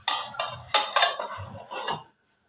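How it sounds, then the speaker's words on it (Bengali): A lid goes onto a pot of chicken curry in a short run of metallic clinks and clatters over about two seconds, close and fairly distinct, then silence, with no voices. "এবার আমি মাংসটাতে একটুখানি ঢাকা দিয়ে দেব"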